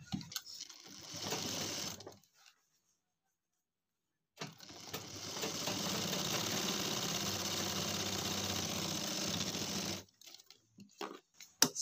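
A sewing machine stitches a pajama pocket seam in two close, steady runs, a short burst and then a longer continuous whir, separated by a pause of silence.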